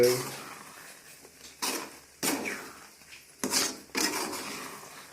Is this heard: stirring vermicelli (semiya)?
yes